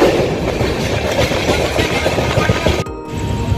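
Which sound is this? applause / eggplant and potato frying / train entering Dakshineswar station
train entering Dakshineswar station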